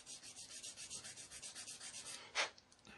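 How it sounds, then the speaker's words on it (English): Thin sanding stick rubbed back and forth over the underside of a resin part for a 1/32 Trumpeter Corsair scale model, giving a steady close rasping rhythm of quick strokes with one sharper scrape near the end, no talking. "Obviously, these are the undersides I'm sanding here"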